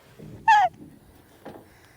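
A chicken on a local farm gives a short, loud cluck-like call, followed about a second later by a fainter second call, against quiet outdoor background.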